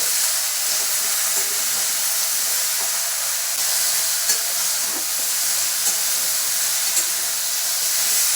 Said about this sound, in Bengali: দেখুন ভালো করে ভাজছে ফুলকপিগুলো